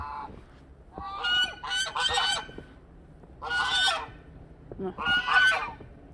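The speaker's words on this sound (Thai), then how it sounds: "ห่าน ห่านจะอยากออกนะคะ" Geese honk loudly and close by in three raucous bursts with short pauses between, outdoors on a snowy day near a gate.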